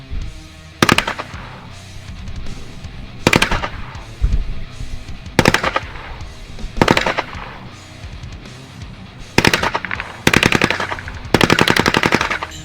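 A Polish PM63 machine pistol fired on full auto, several sharp bursts of rapid shots spaced apart across the stretch, loud and close with quiet gaps between.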